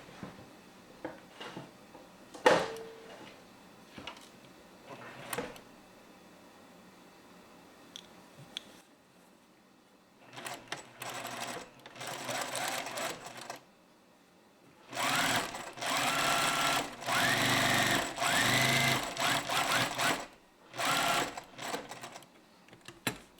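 A sewing machine stitches a fabric pocket piece close to the edge in several bursts, short clicks and taps giving way to longer steady whirring runs of stitching, close and clear, with no talk.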